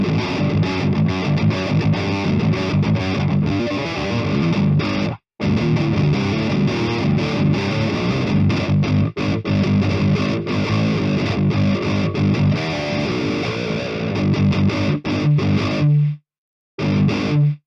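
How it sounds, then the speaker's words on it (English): A 7-string electric guitar played through a distortion pedal set up as a base tone, loud and thick with sustained chugging riffs, sharp stops and brief silences between phrases. "this is the distortion sound that I dialed in just as a foundation to work off"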